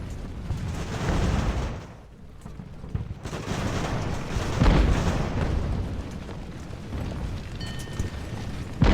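Cannon fire in the naval and land battle game Ultimate Admiral: Age of Sail, with booming blasts and a continuous rolling battle rumble that briefly dips, then swells again with heavy volleys, without talk.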